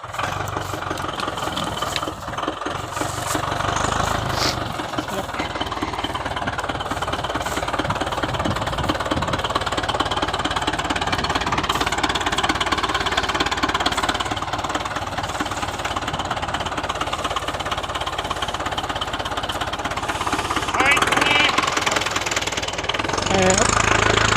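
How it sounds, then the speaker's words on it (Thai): A heavy diesel tractor engine runs steadily and loudly, chugging with a knocking rhythm, while someone speaks over it. "ครับทีมงานของเราเขารถไถกำลังทำทาง"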